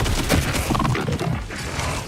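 Rapid, dense SMG fire from Borderlands 4, a continuous rattling stream of shots for about a second and a half that thins into a rumbling tail.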